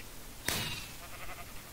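A single sheep bleat in Minecraft on the Mineplex server: one short, clear bleat over faint game background noise.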